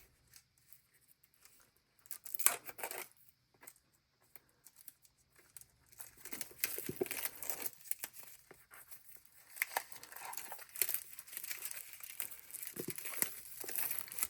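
A notebook's gold-foil packaging is opened close by, with sparse crinkles at first and then denser rustling, tearing and crackling of paper and foil, without any speech.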